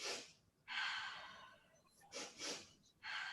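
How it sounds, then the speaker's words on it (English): Close, soft breathing exercise: two quick sniffing inhales followed by a longer airy exhale, repeated in a steady cycle in a quiet room. "So it's 2 quick inhales followed by an exhale."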